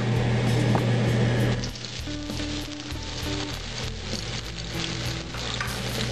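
Green onions hit a hot frying pan for low-carb cauliflower fried rice, giving a loud close sizzle that settles into a steady crackling fry, with faint stirring and a low background hum.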